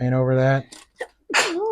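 A single sharp sneeze from a person working on glidebaits with thick polyurethane in a dusty workshop, following close talk and followed by a voiced exclamation.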